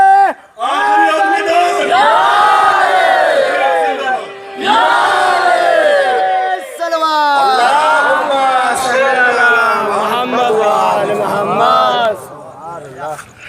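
A religious gathering on 13 Muharram roars slogans with raised hands, several loud waves of many voices shouting together in unison, separated by brief pauses, with a leader's voice in between.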